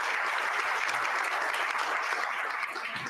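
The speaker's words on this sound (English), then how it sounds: "A round of applause for a truly entertaining." An audience at a conference session applauds, dense continuous clapping filling the room, fairly loud and sustained, tapering slightly at the very end.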